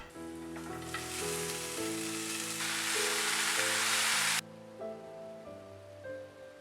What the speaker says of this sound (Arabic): اما الخضار فهشوحه مع شوية توم